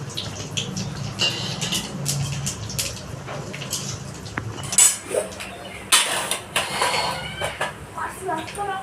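Whole spices, garam masala, dried red chillies, cumin and bay leaves, hiss and crackle in hot oil, a bright sizzle with clinks of utensils and a voice talking over it.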